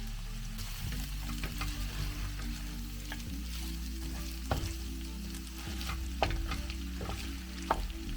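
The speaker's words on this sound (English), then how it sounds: "Now I went in with a tablespoon of tomato paste, mixed in to remove the acidity and develop its flavor to the pork" Pork frying with a spoonful of tomato paste in a pan, a continuous sizzle under low hum, with occasional sharp scrapes and knocks of a spoon stirring, close up, no talking.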